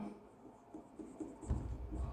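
Pen or marker on a board while writing out an equation in a chemistry lesson, a faint, soft scratching of short strokes with small taps, alone with no talk.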